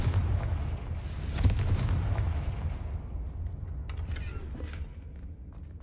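A Confringo blasting spell goes off in Hogwarts Legacy, a heavy low boom around the first and second seconds that rumbles on under a steady roar, with a few faint crackles and debris clatters trailing off as it fades.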